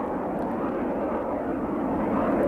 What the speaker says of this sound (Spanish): decenas de pequeños aviones negros y angulosos que volaban sin ser detectados en la oscuridad.